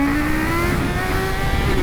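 Kawasaki Z H2 motorcycle engine from a 2021 model, humming at a steady, rising pitch, close and loud, with no talking over it.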